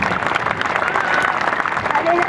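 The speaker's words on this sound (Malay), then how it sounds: "Tuan-tuan dan juga puan satu tepukan gemuruh untuk Suhaimi Syafi" A crowd at a Pakatan Rakyat political campaign rally in Shah Alam breaks into sustained applause, steady mid-level clapping with some crowd noise and a voice faintly audible beneath.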